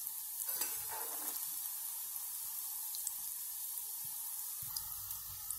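Chicken kola urundai balls frying in hot oil, a steady close sizzle with a few soft stirring scrapes and light clinks, no voices.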